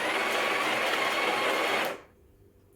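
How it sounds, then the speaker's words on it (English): Built-in grinder of a Breville Barista Express BES860 grinding coffee beans at a fine setting, a loud steady whirring drone that cuts off abruptly after about two seconds, leaving near silence. "to get rid of the old grind size, you want to grind for like 2 seconds extra."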